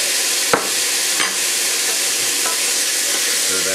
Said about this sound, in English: I'm gonna throw in a little garlic.